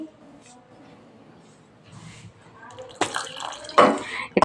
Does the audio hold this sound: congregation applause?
no